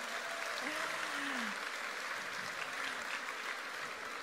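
Steady applause from a crowd fills the whole stretch, dense and continuous, heard at a moderate distance.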